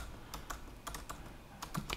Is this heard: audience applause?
no